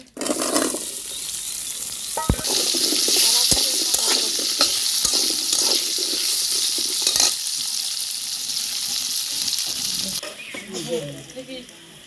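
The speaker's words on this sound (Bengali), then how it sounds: "আলুটা ভাজা হয়ে গেল, এখন তুলে নিচ্ছি।" Potatoes frying in hot oil, a loud continuous sizzle with sharp clicks and scrapes of a spatula stirring them, the hiss easing off near the end as the pieces are lifted out.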